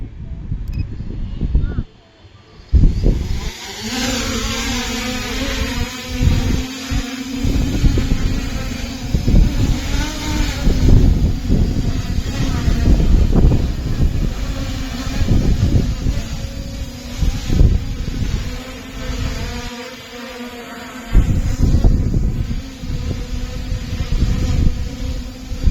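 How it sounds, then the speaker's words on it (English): A quadcopter drone running PX4 autopilot with an optical flow sensor and GPS arms and flies outdoors on a windy day, its motors holding a loud steady buzzing whine with a short dropout near the start and gusting wind noise. "let's arm it and then fly the drone with optical flow sensor and the"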